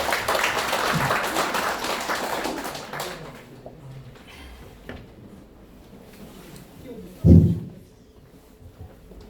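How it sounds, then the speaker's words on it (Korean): An audience at a school violence symposium claps to welcome a police sergeant speaker. A burst of applause at the start dies away into a quiet room, followed by a single thump. "박수로 맞이해주세요."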